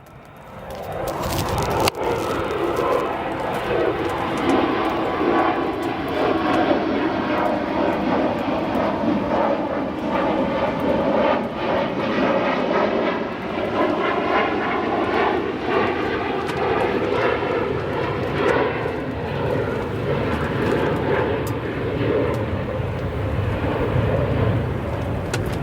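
A Volaris Airbus A320neo at O'Hare spools its jet engines up into a loud, sustained roar with a rising whine, steady and close for over twenty seconds with no voices.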